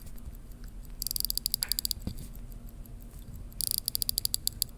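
Manual-wind watch crown being wound, two bursts of rapid fine ticking clicks, close and quiet, against a low background with no talking.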